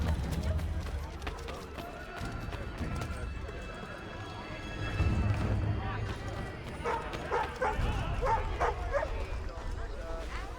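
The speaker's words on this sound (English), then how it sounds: "Good dog." A dog barks a few times in the video game Assassin's Creed III, set against horse hooves clip-clopping and the bustle of a colonial town, with game voices talking throughout.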